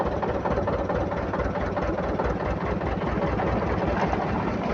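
A generator-driven engine runs steadily aboard a bamboo-decked river ferry boat on the Damodar River, a loud, continuous low chugging drone with a fast, even pulse throughout and no voices.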